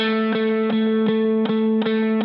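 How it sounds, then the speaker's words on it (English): An electric guitar plays one note, picked six times at a steady quick pace; each attack rings into a thick, sustained distorted tone through an effects unit, heard alone. "It's getting a little louder, a little more distorted, getting even louder."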